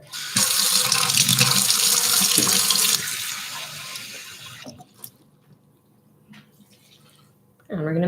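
Tap water runs hard into a cup in a home kitchen for about three seconds, then the flow thins and stops, followed by quiet handling sounds and a brief voice at the end.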